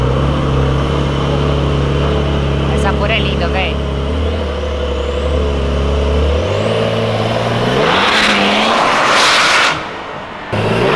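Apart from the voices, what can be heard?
Porsche sports car engine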